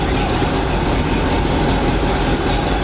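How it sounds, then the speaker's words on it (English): A 1987 GMC 7000 truck with a 366 engine idles in a steady, dense low rumble through its exhaust, constant and close throughout with no break. "Engine actually runs pretty quiet. Exhaust has a little bit of a rumble to it."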